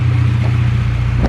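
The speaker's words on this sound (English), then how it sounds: "Let's just do a little baby pull on the dyno and see how it goes" A naturally aspirated Honda Civic engine idles and begins a light pull on a dyno, a loud steady low rumble with a short sharp exhaust pop at the end.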